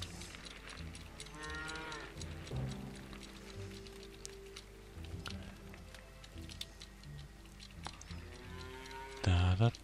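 Cattle in the farming game Farmer's Dynasty give long, wavering moos across the stretch, a few calls rising over continuous game ambience, with a louder thump right at the end.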